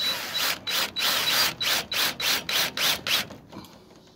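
A drill bores a pilot hole in a door in a quick, regular run of about eight short whirring pulses. The pulses fade out near the end.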